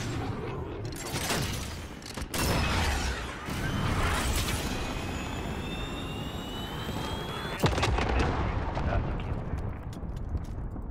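Bombs and gunfire fill a Modern Warfare match with a continuous loud roar of blasts, rumble and jet-like noise, punctuated by a sharp crack near the end.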